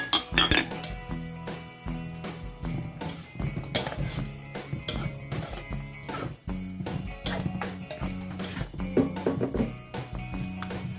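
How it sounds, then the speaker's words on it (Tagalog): Metal utensil scraping and clinking against a pan while bamboo shoot and spare rib adobo is mixed, a busy run of repeated scrapes and taps, close and steady throughout with no talking. "Let's mix it up all together."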